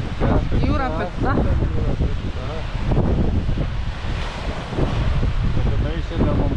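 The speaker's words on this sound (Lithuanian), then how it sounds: "Tai šiandien mums davė gerą vėją." Strong wind off an angry sea buffets the microphone with loud, gusting roars, while voices talk over the blustery noise.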